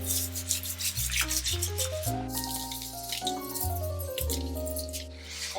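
A toilet brush scrubs a bicycle frame with steady, continuous rubbing strokes, close by and alongside running water, under prominent sustained musical tones.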